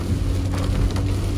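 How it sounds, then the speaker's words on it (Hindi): Heavy rain pours in a steady, loud, unbroken roar, with deep rumble beneath it, along a road where the hills give way to flat lowland country. No one speaks. "बारिश झमाझम"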